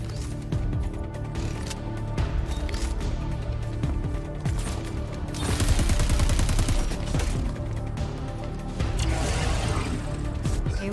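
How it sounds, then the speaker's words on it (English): Sci-fi plasma rifle fire in a shooter game, dense rapid bursts crackling over a constant rumbling background, growing louder and harsher in the middle and again toward the end. "Looking up the specs for that plasma rifle."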